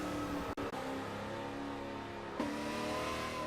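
A 1970 Buick GSX muscle car in the Forza 7 racing game revs its engine hard and steadily, a loud, dense engine drone with two brief cuts near the start and a sharp surge of throttle late on.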